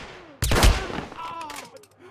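Gunfire in a gunfight in Hitman: Absolution, a sudden loud burst of shots followed by several quicker, fading cracks, with someone talking over it.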